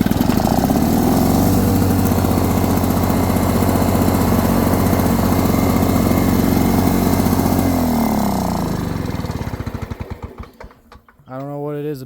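An old Lawn-Boy 7268 mower engine runs at a loud, rapid two-stroke clatter after a cold start, then sputters and dies, followed by a short voice.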